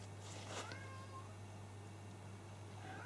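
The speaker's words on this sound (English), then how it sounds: "Don't know if you can actually hear my cat crying outside the door." A cat crying outside a door gives a faint, muffled meow or two, thin and drawn out, heard at a distance over a steady electrical hum and room noise.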